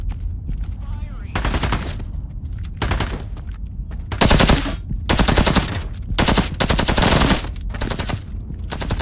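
Machine gun fire in the VR shooter Into The Radius 2, loud sustained bursts separated by short pauses, with several long rattling volleys crowding the span.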